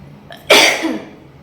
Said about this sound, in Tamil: ஒரு தும்மல் வந்தது அதிகம்னு நினைக்கிறேன் எனக்கு.